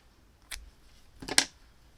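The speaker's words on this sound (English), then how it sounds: "I'm going to cut my yarn" Scissors snip through crochet yarn twice, a light snip followed by a crisper double cut, close and fairly quiet with silence around them.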